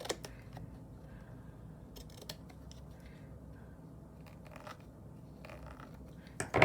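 Scissors snip through paper around a picture for a prayer tag, a run of faint, close, irregular crisp cuts and rustles in a quiet room, no talk.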